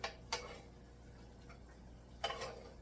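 A metal spoon clinks against a pan in a kitchen, three faint, sharp taps: two close together at the start, then one more after a pause, over quiet background.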